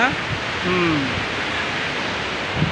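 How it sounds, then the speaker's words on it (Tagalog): Seven Falls waterfall at Lake Sebu, South Cotabato: a steady, broadband rush of falling water fills the whole clip, with a brief faint voice fragment partway through. "Yan ang view dito, Yan ang falls. Grabing impact sa falls."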